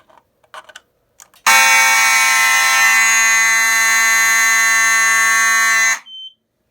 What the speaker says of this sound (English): let's go ahead and activate the smoke detector